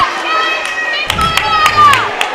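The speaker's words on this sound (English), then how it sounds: "Now our crowd is energetic. They didn't like that one." Girls' high school basketball crowd in the Kadoka Kougars vs. Wall Eagles game, reacting to a travel call with a burst of loud, energetic shouting and cheering from many voices, some children among them, with a few sharp claps and whistle-like peaks.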